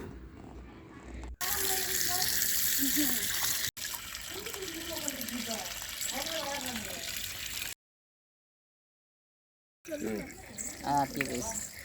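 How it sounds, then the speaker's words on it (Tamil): Water pours steadily over freshly picked omavalli leaves being rinsed clean, a loud continuous rush that cuts off to silence and then resumes, with a voice speaking over it throughout. "பாருங்கள், இது மாதிரி நல்லா க்ளீன் பண்ணிக்கோங்க தண்ணி ஊற்றி"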